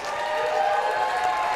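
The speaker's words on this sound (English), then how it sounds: "And they get a big cheer from the fans." Hockey fans in an arena cheer and applaud after a successful penalty kill; a steady, dense wash of clapping and crowd noise holds throughout without a break.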